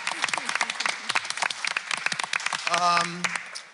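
An audience at a career fair claps for two staff members, a dense burst of applause that rolls on steadily for a few seconds, with a voice briefly rising over it near the end.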